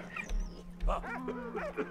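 A dog in the World War I video game Valiant Hearts whimpers and yips in short bursts, with a voice talking over it and soft game tones in the background.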